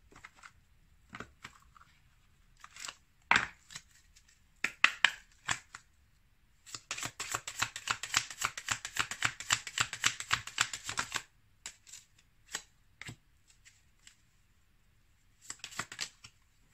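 Oracle cards for lovers being shuffled by hand: scattered soft flicks and taps, then a sustained riffling burst of rapid card patter for several seconds, followed by a few more isolated snaps, close and moderately quiet with no talking.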